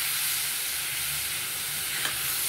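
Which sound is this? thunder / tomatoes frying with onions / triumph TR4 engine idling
tomatoes frying with onions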